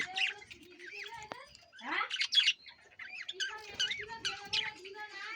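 Budgerigars and Java sparrows kept together in a home colony chirp, squawk and chatter in overlapping, busy calls at close range.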